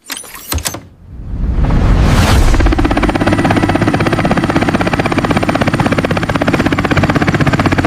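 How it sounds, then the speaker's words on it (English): A news helicopter hovering overhead, its rotor a loud, steady pulsing thrum that swells in after a brief clatter and holds a continuous chopping drone without talk. "Now we are going to our news helicopter"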